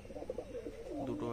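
Pigeons in a home loft, including a pair sitting on eggs, give soft, throaty cooing in repeated rolling phrases, fairly close but quiet.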